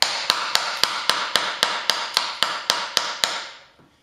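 A hammer strikes a drift to drive the cup out of a vehicle universal joint, about a dozen evenly spaced sharp metallic taps close by with short ringing decays, then quiet; no speech.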